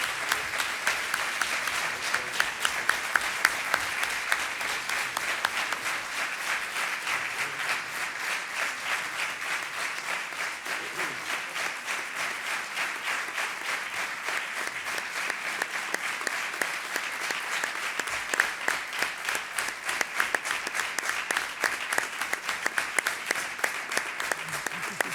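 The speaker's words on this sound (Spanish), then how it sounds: "Le damos un aplauso, que no quede aquí frío." Sustained applause from a sizable church audience at an anniversary celebration, dense steady clapping that carries on for the whole stretch without pause, with faint crowd murmur underneath.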